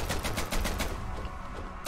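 Rapid, continuous gunfire rattles from a gun weapon added by a mod to the Hollow Knight video game, loud and dense with bursts running the whole time and a final sharp shot at the end.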